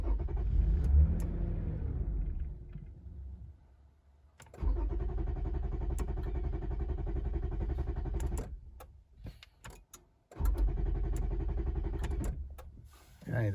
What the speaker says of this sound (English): we're going to start the car a couple times just to release the pressure in the system